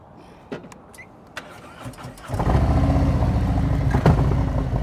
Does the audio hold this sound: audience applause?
no